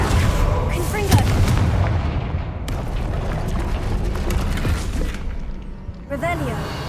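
In Hogwarts Legacy, the Confringo fire-blast spell lands as a loud, booming explosion amid continuous dense game sound, with voices mixed in over the rumble.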